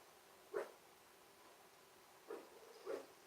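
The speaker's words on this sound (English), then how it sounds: "That's the puppy barking." A puppy barks three times indoors, faint and a little distant: one sharp yap, a pause, then two more in quick succession against quiet room noise.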